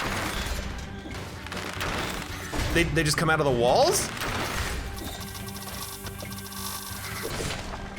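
Barrels blow up in the Dead Cells game, with loud crashing bursts and a swirling explosive rush peaking midway, set against a busy game soundscape, while someone talks over the action.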